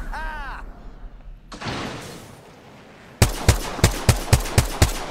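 Apex Legends gunfire: after a short voice and a noisy stretch, a rapid string of about eight sharp, loud shots rings out at a steady rhythm.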